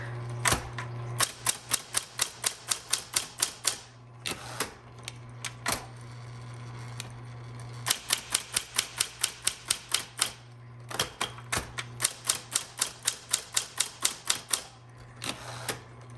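Rapid bursts of sharp mechanical keystrokes from a 1960s Smith Corona Electra 110 electric typewriter, with a steady motor hum underneath and brief pauses between runs of typing.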